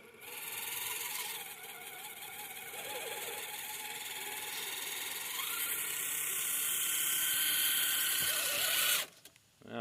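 A TRX-4 long-travel Bronco RC crawler fitted with 2.2 tires throttles up while being pulled out of a hole, its motor whining steadily and rising in a continuous mechanical drone that cuts off abruptly near the end.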